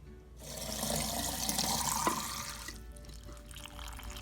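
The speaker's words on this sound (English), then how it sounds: "We just have to get rid of garlic itself and water our beautiful," Garlic water poured from a container onto potted orchids, a steady close splashing and trickling stream that swells and then tapers off to quiet dripping.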